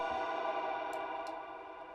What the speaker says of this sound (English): it just turns it into like a wide version, really nice chorused sound